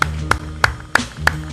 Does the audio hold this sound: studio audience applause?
yes